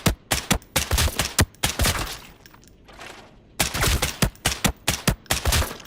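Rapid bursts of gunfire in the shooter game Arena Breakout: Infinite, loud sharp shots in quick strings, a brief pause in the middle, then another volley of fast close shots.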